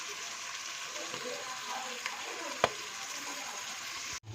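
Chopped onions sauté in a hot pan with a steady, close sizzle that holds at an even level, broken by a single clack of a utensil partway through.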